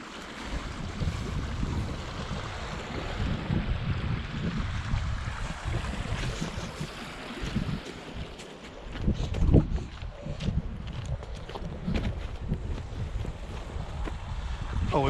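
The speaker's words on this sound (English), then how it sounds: "there's some water coming down this dike." Heavy water flow pours down a farm dike after wet weather, a continuous rushing wash mixed with wind buffeting the microphone, steady throughout with a brief louder surge midway.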